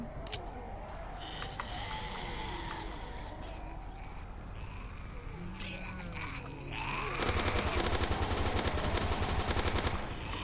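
Rapid automatic gunfire crackles from weapons in a Roblox zombie attack game, growing into a dense loud burst of shots toward the end over game background sounds.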